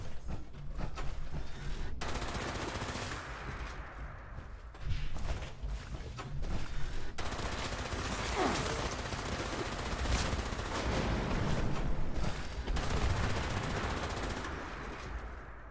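Gunfire in Fallout 76, a loud continuous stretch of rapid automatic shots with brief breaks and shifting intensity, close and dense, with thuds mixed in and no talk.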